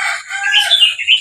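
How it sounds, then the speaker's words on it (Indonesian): Chicken calling close by in rural village surroundings, a short, bright, warbling cluck-like cry lasting about a second. "Ayam."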